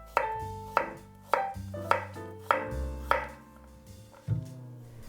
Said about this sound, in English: Cut it into slices.